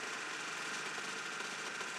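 A loud, harsh race car engine drone at the 2010 24 Hours of Le Mans runs steadily throughout, rough and clattering, with a knocking grind under the roar from a failing engine or transmission.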